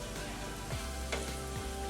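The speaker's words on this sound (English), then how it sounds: "All right, so I'm just frying those in that oil." Vegetables fry in hot oil in a pan, giving a steady close sizzle and crackle with a few soft stirring scrapes and no talking.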